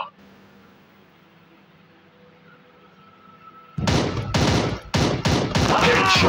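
Enemy gunfire in a video game erupts after a quiet stretch, loud rapid bursts of automatic shots in several clusters with brief gaps, close and harsh.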